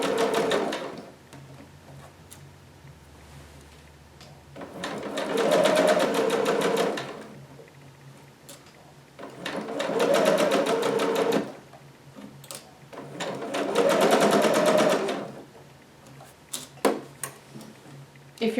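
Domestic sewing machine stitching through flat darts on a Vogue 2530 garment, heard in three steady bursts of rapid mechanical chatter, each several seconds long, with quiet pauses and small clicks between runs.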